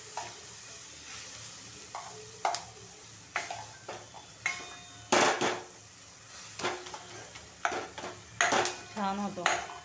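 A tomato thecha with cloves is worked in a pan with repeated scraping, stirring and knocks of a utensil against the metal over a low sizzle, with bursts of clatter spaced unevenly throughout.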